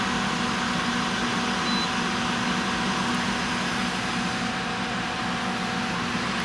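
Steady mechanical drone of a 10,000 BTU Costway portable air conditioner running, a constant hum with a faint tonal whine, close and unchanging.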